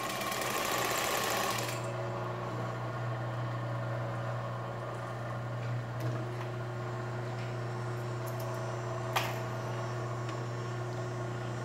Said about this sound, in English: lift the presser foot, and just stitch over the stitches you already made